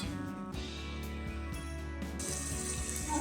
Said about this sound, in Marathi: आता आपण याच्यामध्ये गरम पाणी टाकूया